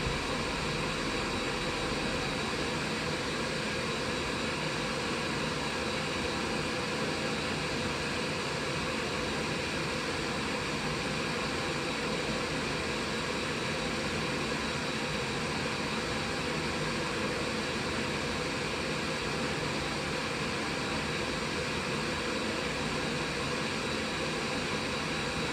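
Airbus A320 engines drone in a flight simulator (P3D/FSX) during an autopilot approach with flaps 1 set. The roar is a steady, dense and unbroken hum that holds an even level throughout, with no voices.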